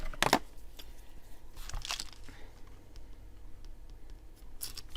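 Tape on a small craft bead kit box being cut and torn open, with a sharp crinkling rip near the start, another tearing burst around the two-second mark and a brief crackle at the end, close and moderately loud with no talking.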